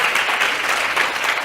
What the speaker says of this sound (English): a round of applause, please, for our panel